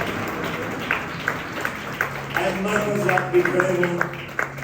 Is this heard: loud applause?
yes